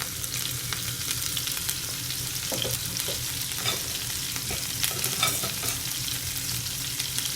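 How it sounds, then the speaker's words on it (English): A pan of jerk seasoning mixture for crispy fried fish sizzles continuously and fairly loudly while a utensil stirs through it with small scraping clicks. "I'm just gonna stir it,"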